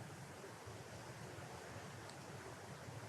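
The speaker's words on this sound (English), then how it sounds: "I can feel and hear the wind." Wind blows steadily outdoors, a soft broadband rush that stays faint and even, with slight gusty swells and no voices.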